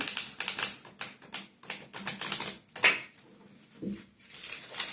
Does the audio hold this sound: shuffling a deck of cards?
yes